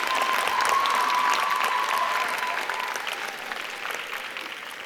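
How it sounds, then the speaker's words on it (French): Audience applauding after a dance performance at the Bibliotheca Alexandrina, full crowd clapping that starts strong then gradually thins and softens, with a faint steady tone underneath. "j'aimerais que vous l'applaudissiez."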